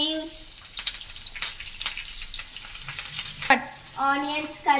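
Onions, curry leaves and chillies frying in a pan, giving a steady sizzle with stirring scrapes. A voice speaks over it in places.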